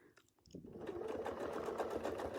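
Sewing machine stitching a wreath design starts up after a brief quiet and runs in a steady, close whirring hum of rapid stitches.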